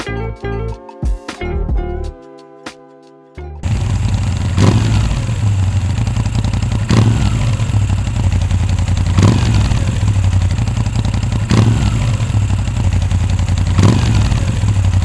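A Moto Guzzi motorcycle fitted with a Rapid Bike Easy fuel module revs sharply several times at regular intervals over a steady idle, loud and close, after a brief burst of clattering at the start.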